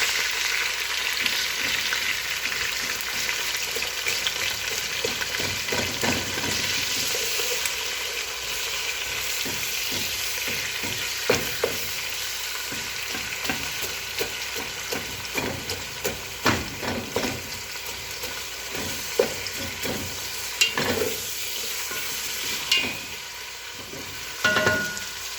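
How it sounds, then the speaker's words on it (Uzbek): Onions frying in oil in a pot for plov, a steady loud sizzle broken by repeated scraping and knocking as a utensil stirs them, close up with no talk. "Ana piyoz tashladim va aralashtiramiz."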